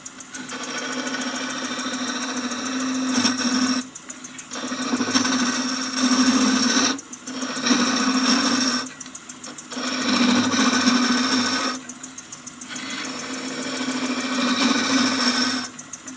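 A wood lathe spins at about 900 rpm while a half-inch bowl gouge turns a Christmas angel ornament, producing a steady motor hum with recurring louder cutting passes separated by brief quieter gaps.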